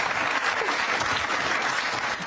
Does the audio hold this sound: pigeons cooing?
no